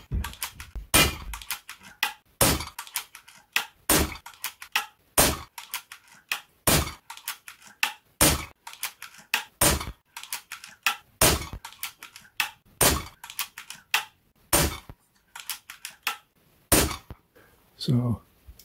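A Zbroia Kozak bullpup rifle fires a long series of single shots at a steady, deliberate pace, each report sharp and loud with brief quiet gaps between them, ending with some handling noise.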